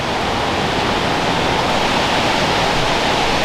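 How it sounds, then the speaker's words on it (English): Cascada de la Angel, a tall and powerful waterfall at El Chiflon in Mexico, pours as a loud, continuous broadband roar, steady and close with no break or voices. "We've only just gotten out of sight of the first waterfall and now we're approaching the second one, Cascada de la Angel."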